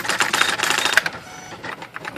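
A Sears Swintec 8016 electronic memory typewriter, a Nakajima AE-740 variant, typing in quick bursts of sharp daisy-wheel strikes. There is a brief pause, then a few more keystrokes, close and crisp, with no talking.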